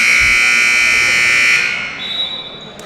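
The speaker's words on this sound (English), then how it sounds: "Buzzer on the free throw." A loud, sustained electronic buzzer blares for about a second and a half at a basketball game between Tabernacle Hickory and Shining Light Monroe, then cuts off into gym ambience.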